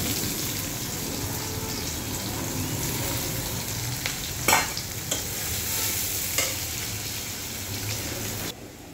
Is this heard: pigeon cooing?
no